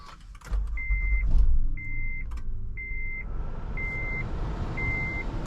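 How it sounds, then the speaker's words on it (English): A 2017 Honda Odyssey EX-L minivan with a 3.5-liter V6, heard from inside with a low engine and road rumble, a swell in revs early on and a repeating electronic chime beeping steadily over the cabin noise. "let's go for a drive in the 2017 Honda Odyssey EXL"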